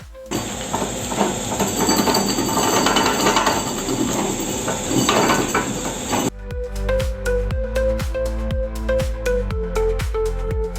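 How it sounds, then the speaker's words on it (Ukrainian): A large rotating machine cutting worn tread from an old tractor tire runs with a loud continuous grinding whir, then shifts to a series of rhythmic thumps and mechanical knocks as it keeps turning. "Величезна обертаюча машина зрізає зношену гуму, залишаючи рівну поверхню."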